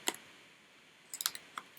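Scissors snipping at a cardboard makeup box: one sharp click near the start, then a quick cluster of three or four crisp snips and a couple of lighter ticks, close and fairly quiet.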